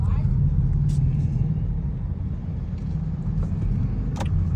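Steady road traffic rumbles outside a Shell service station in Subic, with car engines droning continuously and a vehicle or two passing nearby.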